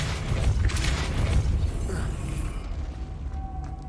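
Spell effect of Depulso cast in Hogwarts Legacy: a loud rumbling, creaking mechanical burst that holds steady for about two and a half seconds and then fades into a quieter tail.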